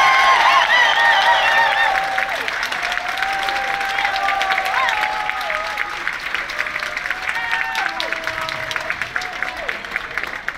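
Dining room guests aboard an Alaskan cruise ship applaud together, a dense sustained clapping that slowly thins out, with scattered voices and a few whistles mixed in.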